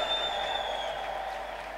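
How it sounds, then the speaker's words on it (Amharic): A church congregation claps together for a short, steady stretch, a dense even patter of hands at moderate volume with no voices. "ለጌታ ክብር ከፍ ያለ ለልታ ከፍ ያለ ጭብጨባ"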